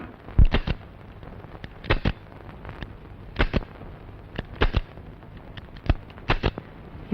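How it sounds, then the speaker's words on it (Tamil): A Diwali toy cap gun fires in scattered bursts of sharp, crackling pops, often two or three in quick succession, loud and close over a faint low background hum. "தீபாவளி துப்பாக்கி மாதிரி வெட்டு துப்பாக்கிப்பா."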